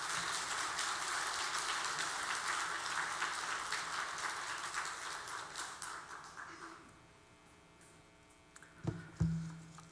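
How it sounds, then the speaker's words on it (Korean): A church congregation claps to welcome a missionary to the pulpit, dense steady applause filling the first several seconds before thinning and fading, followed by a few louder thumps near the end. "우리 나오실 때 박수로 환영하겠습니다"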